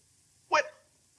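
A pug dog gives a single short, sharp bark in an indoor family setting, close and fairly loud, with near silence before and after.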